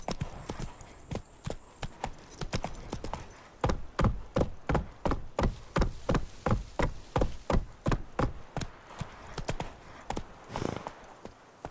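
Horse hooves gallop in The Witcher 3 video game, a steady rapid clip-clop of strong, evenly spaced hoofbeats over roughly twelve seconds, close and loud, with no talk.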